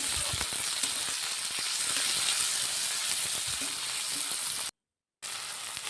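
Onion and tomato fry in a pan with a continuous close sizzle and hiss, some stirring clicks, and a brief silent gap near the end.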